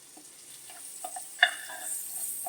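Half a tablespoon of ginger garlic paste frying in a pan with green chillies, a soft, faint sizzle with a few light stirring taps and one brief sharper clink.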